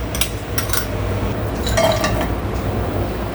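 Dry fruits roast in ghee in a metal pan for bottle gourd halwa, with a spoon scraping and clinking against the pan in several close, bright strikes between quieter stirring.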